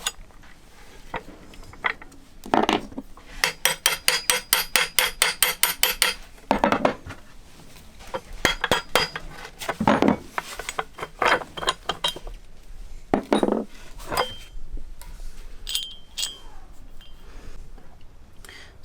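Steel emergency tiller fitting for a boat's rudder stock being taken apart, giving a rapid run of metallic clanks and rattles followed by scattered louder clinks and knocks, close by.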